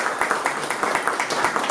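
An event audience claps in a quick, fairly even rhythm, a moderately near and steady burst of applause with no voices on top.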